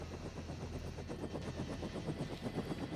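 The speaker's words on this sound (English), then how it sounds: "I couldn't hear you over the sound of the helicopter blades" Helicopter rotor blades chop in a steady, rapid rhythm, loud and close, with a low engine drone underneath and no talking.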